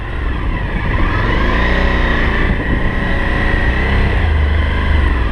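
A Suzuki DL1000 motorcycle ridden through gymkhana drills, its engine droning loud and close throughout with steady throttle swells and revs, no talk over it.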